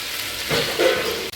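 Pieces of black pomfret fish frying in a pan give a brief, close, steady sizzle that swells slightly midway, with no talk.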